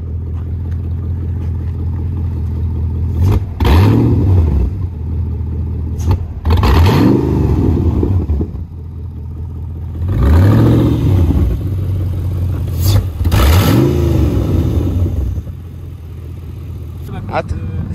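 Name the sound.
BMW E30 Touring new engine revving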